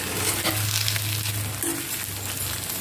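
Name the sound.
vegetable filling for dosa being stir-fried in a pan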